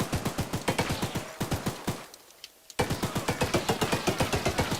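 A mounted cannon gun fires in Choo-Choo Charles, a rapid, steady stream of loud sharp shots in quick rhythm, briefly pausing for a moment mid-burst before resuming at the same fast pace, with no talking.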